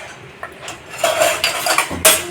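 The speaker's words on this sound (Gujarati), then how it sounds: "જો ફેન્સી કામે લાગી ગઈ છે વાસણ ગોઠવી છે બધાય" Metal dishes and cutlery clink and clatter as they are set down and shifted, a quick series of close knocks ending in a louder clank.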